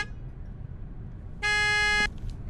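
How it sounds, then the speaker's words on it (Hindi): A car horn at a petrol pump blares once in a single steady, buzzy honk lasting about half a second, rising clearly above low background rumble. "अबे हॉर्न क्यों मार रहा है?"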